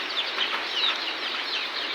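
Soft, continuous clucking and chirping from a group of native village chickens, steady and close, with no talking.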